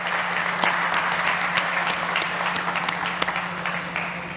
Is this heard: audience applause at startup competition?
yes